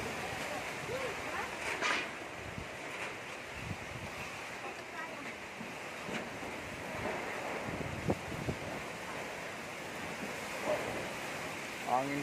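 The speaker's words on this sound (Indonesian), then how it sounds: "Angin seperti ini sangat berbahaya guys" Strong storm wind buffets the microphone in a steady rushing roar with gusty surges, loud and close, as someone speaks in between.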